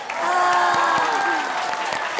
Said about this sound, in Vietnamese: Xin mời tất cả quý vị dành một tràng pháo tay cho em bé.